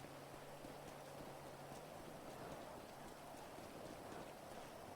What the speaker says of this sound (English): It's the first rainy day we've had on the server, and I'm so excited for the rain.